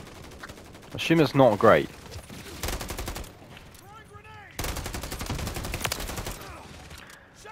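Rapid bursts of video game gunfire from Call of Duty crackle in a dense volley near the start, followed by further stretches of shooting and game noise, with a person talking over parts of it.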